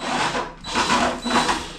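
Screwdriver working out small screws from the underside of a QSO DIY radio box enclosure, three sustained bursts of whirring, grinding tool noise separated by short pauses, close and fairly loud with no talk.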